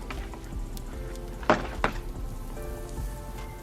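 Steady crackling sizzle of meat on a hot grill, with a couple of sharp pops and spits rising above the constant hiss.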